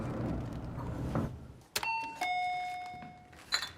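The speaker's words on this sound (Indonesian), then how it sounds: "apartemen Min-hye berkali-kali menekan bel pintu apartemen Min-hye" An apartment doorbell chimes twice in quick succession, clear bright tones that ring out and fade, after a stretch of muffled low rumble, with a few faint knocks at the end.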